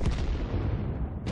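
Artillery shells fire and burst in World of Tanks tank combat, a dense, loud barrage of booms and blasts rolling on continuously without pause.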